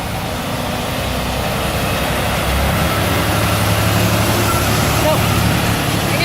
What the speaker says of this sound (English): Let's see how this truck does it. Look at this truck.